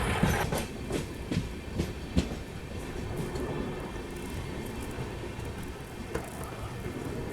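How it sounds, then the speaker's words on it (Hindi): A passenger train, the Amrit Bharat Express, rolls around a curve into Ongul railway station with rhythmic clickety-clack of wheels over rail joints and a steady rumble, close and continuous, with no talk. "शानदार सा कर्व लेते लेते हमारी ट्रेन एंटर करिए ओंगुल रेलवे स्टेशन पे"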